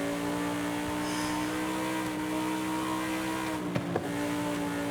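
A BMW X5M SUV built as a race car in Forza Horizon drones with a steady, loud engine note that holds at high revs throughout, with a couple of brief sharp clicks near the end.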